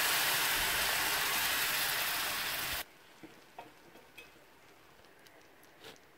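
Tamarind extract hits a pan of Kerala-style ginger curry with a loud, steady hiss of sizzling for a few seconds, then drops abruptly to a quiet simmer marked by a few soft bubbling pops.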